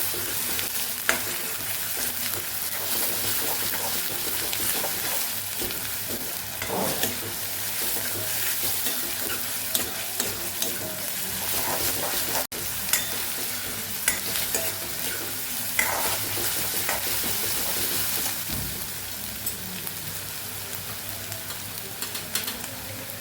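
Onions with ginger-garlic paste sautéing in a pan for a Kathiyawadi kaju gathiya curry, stirred throughout; a continuous close crackling sizzle with frequent scraping strokes and occasional sharp clicks, no voices.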